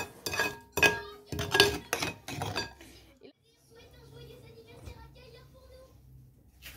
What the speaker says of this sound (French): Et je mélange pour faire fondre le sucre.